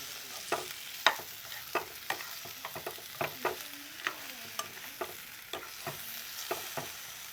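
Onions frying for Jaffna-style potato sodhi are stirred in a pan, with a soft sizzle under repeated sharp scrapes and taps of the spoon at an uneven rhythm.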